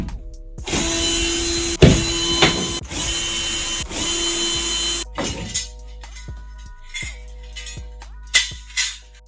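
Power tool whirring in long loud bursts while radiator wall brackets are removed from a bathroom wall, followed by shorter stop-start tool pulses and sharp knocks, close up.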